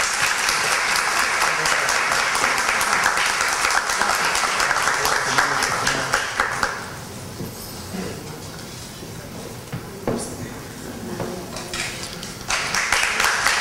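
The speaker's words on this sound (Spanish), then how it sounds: "Un aplauso, por favor, para la regidora." Applause in a council chamber for a newly sworn councillor, loud and sustained from many hands, tapering to quieter murmuring and shuffling midway before another burst of clapping swells up near the end.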